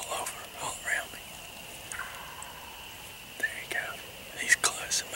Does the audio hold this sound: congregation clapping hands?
no